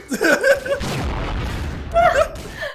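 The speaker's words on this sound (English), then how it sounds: "What the fuck was that explosion?" An explosion in Garry's Mod Trouble in Terrorist Town, a deep boom in the middle, with players shouting and talking just before and after it.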